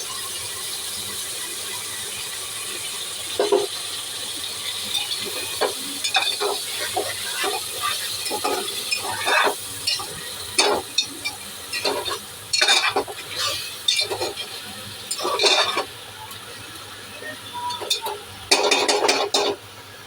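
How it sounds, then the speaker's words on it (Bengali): Meat frying with spices for Bangladeshi-style kacchi biryani gives a soft, continuous sizzle, broken by irregular scraping strokes of a spatula that grow louder and busier toward the end. "আমি ভালো করে কষাবো যতক্ষণ না তেল ছাড়বে।"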